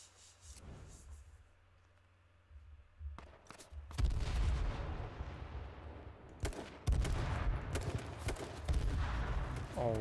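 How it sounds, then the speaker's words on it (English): Heavy bursts of gunfire and explosions from the battle-royale video game H1Z1 King of the Kill erupt after a quieter opening, with loud, dense volleys continuing to the end and faint voices now and then. "Oh my god, explosions."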